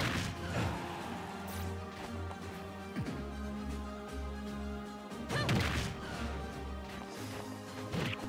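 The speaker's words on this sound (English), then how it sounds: "The back hit of Byleth's down smash does more damage than the front hit." Byleth's down smash in Super Smash Bros. lands with several sharp crashing hits, spaced apart over game music and effects at moderate loudness.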